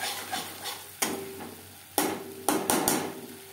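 Spice paste fries in oil for a gourd and rice dish, making a low sizzle broken by several sharp spoon knocks and scrapes against the pan at uneven intervals, heard close with no speech.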